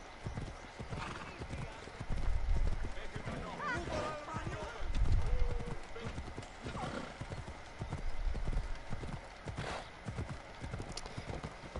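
Hooves clip-clop steadily on hard ground, with a horse whinnying briefly and a person talking nearby over outdoor background noise.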